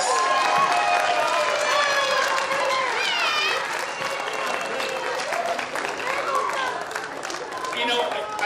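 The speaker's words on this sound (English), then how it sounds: "Big round of applause." A crowd at a peacock-calling contest in Souris claps and cheers steadily, a broad roar of applause with whoops and voices layered over it that eases slightly toward the end.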